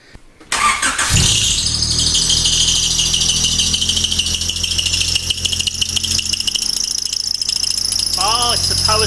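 A Honda Civic turbo engine cranks and catches, then idles loudly with a persistent harsh rattling, whining noise in a garage, steady for several seconds as people talk nearby.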